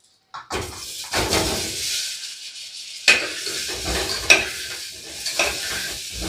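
Chopped potatoes drop into butter and oil in a pressure cooker for chicken stew, the sizzle bursting up after a brief silence, then settling into steady frying with a few sharp clanks of stirring.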